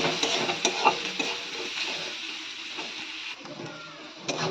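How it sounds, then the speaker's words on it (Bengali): Steady oil sizzle of potatoes and onions frying with salt and turmeric, with occasional stirring scrapes and small crackles, close and fairly loud, with no voices. "নুন আর হলুদ দিয়ে একটু ভালো করে ভাজা ভাজা করে নেব।"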